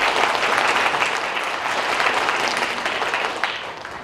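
Sustained applause from an audience at a university admissions information session, a dense wash of clapping that holds steady and then slowly tapers toward the end.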